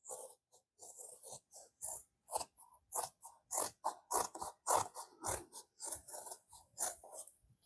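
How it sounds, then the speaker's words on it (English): Scissors snipping through fabric lining as it is trimmed around curves for a holiday stocking, a steady run of close, crisp cuts in quick rhythm with brief pauses. "I'm just going to trim around the curves on the lining"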